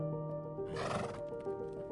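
A wild horse on the steppe lets out a loud, shrill whinny that rises and fades, set against a steady low hum and faint background noise.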